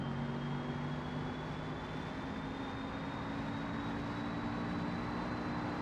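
Simulated car engine in BeamNG running steadily and strained on a long descent, a constant droning hum with a slowly rising whine, loud and unbroken with no talk.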